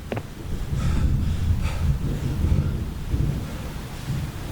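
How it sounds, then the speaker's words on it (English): Heavy rain falls steadily with low rumbling thunder rolling underneath, a dense continuous wash of sound with no voices. "There was heavy rain and thunder"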